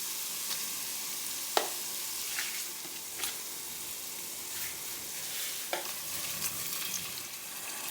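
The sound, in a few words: peppers and tomato mix frying with caramelized onions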